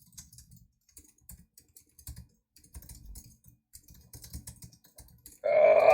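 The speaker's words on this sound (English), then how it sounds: "I'm so bad at typing." Someone types on a computer keyboard in quiet, uneven bursts of soft keystrokes with short pauses between them, ending in a sudden louder burst of noise.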